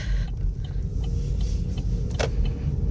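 Car driving slowly on a 25 mph park road at High Cliff State Park, a quiet steady low rumble from inside the cabin with a short whirring sweep near the end.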